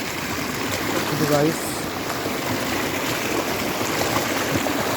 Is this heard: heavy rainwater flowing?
yes